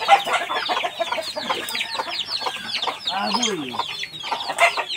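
Chickens cluck in a rapid, overlapping chorus close by, with a rooster-like call rising briefly near the middle and a man calling out once over the flock.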